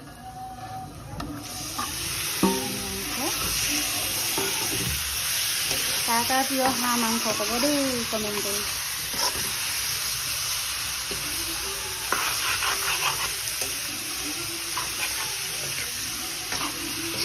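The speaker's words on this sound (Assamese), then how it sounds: "মছলাখিনি ভাজা হৈ গ'ল। এতিয়া দি দিম ইয়াতে মাংসখিনি।" Duck meat dropped into a pan of home-ground spices fries with a loud, continuous sizzle and hiss, with stirring scrapes throughout while someone talks over the cooking.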